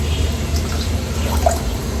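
Water pours into soaked basmati rice in a pot for chicken dum biryani, a soft continuous splashing trickle with a few small drips, no voices.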